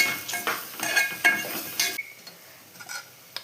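A spoon stirs Maggi noodle masala with turmeric and paste in a cooking pan, making close scraping and clattering strokes for about two seconds. Softer sizzling and an occasional light tap follow.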